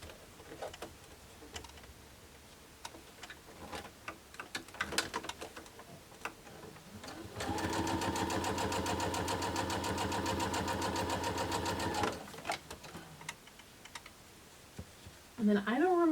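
A sewing machine stitches small quilt pieces together, running steadily for about five seconds of fast even whirring after scattered handling clicks and rustles, then stopping, with a brief voice near the end.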